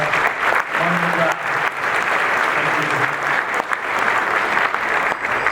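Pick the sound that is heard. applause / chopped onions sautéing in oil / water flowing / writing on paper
applause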